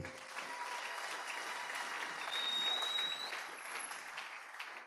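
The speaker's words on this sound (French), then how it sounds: "Oh, acclamons cette parole." A church congregation applauding during a French-language worship service, steady faint clapping that holds for several seconds, swells slightly in the middle and then tapers off.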